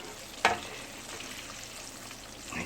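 Catfish coated in mustard and cornstarch fries in hot oil with a continuous crackling sizzle, one sharp pop early on, steady and close with no talking.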